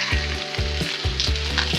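Bacon frying in a pan at a campsite sizzles and crackles continuously, close and steady, with no voices over it.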